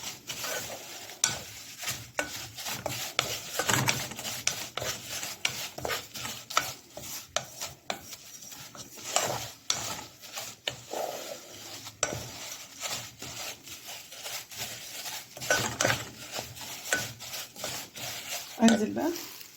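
Nuts toasting in a pan while being stirred, with steady scraping and rustling strokes that repeat throughout and a faint sizzle underneath, heard close up with no talk.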